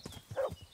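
Horse hooves clopping while riding in the video game Kingdom Come: Deliverance, a few quick rhythmic thuds over less than a second with a brief tonal squeal in the middle.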